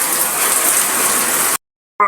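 Steady typhoon rain pours in Laguna, Philippines, with a loud, hissing wash, cutting off abruptly into silence before a brief burst of sound at the end.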